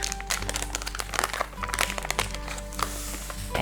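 A sugar pack for a hot cross bun syrup glaze is opened and emptied out, giving close, steady plastic crinkling and rustling with small crunchy bursts throughout.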